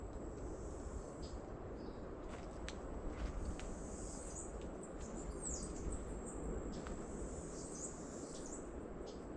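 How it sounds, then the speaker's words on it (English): Faint birdsong chirps and whistles drift over a steady hiss of insects and distant outdoor ambience, with no talking. "Do you hear the birds?"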